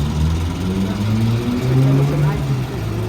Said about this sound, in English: So there you have it, hand crank, 1915 Ford Model T.